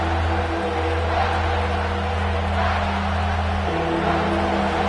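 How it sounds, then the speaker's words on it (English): Football stadium crowd rising up during a game, a loud, dense, continuous roar of many voices sustained throughout, with a steady drone underneath. "This crowd rising up,"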